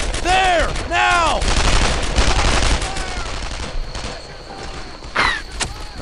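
Bursts of rifle and machine-gun fire in the World War II shooter Brothers In Arms: Earned in Blood, loud and close in rapid volleys, with shouted squad voices and mechanical clatter between bursts.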